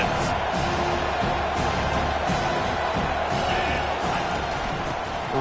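A video-game stadium crowd roars steadily behind the defense on a big third down in a college football game, a dense, continuous wall of cheering and whooping with no break.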